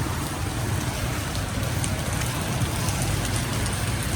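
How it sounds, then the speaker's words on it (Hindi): Heavy rain pours down steadily and loudly with no voices, a dense continuous hiss filling the whole stretch. "बारिश तेज़ हो रही थी बहुत"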